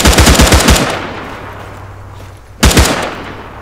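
Automatic weapon fire in Arma 3 during a staggered advance: a loud rapid burst, then a quieter stretch with a low hum, and a second close burst near the end.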